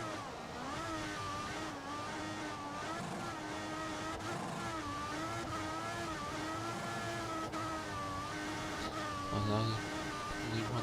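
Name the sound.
F1 car driving in F1 2016 video game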